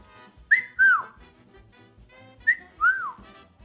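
A person whistles two short rising-then-falling phrases, each a quick chirp followed by a longer swooping note, separated by a brief pause over faint background noise.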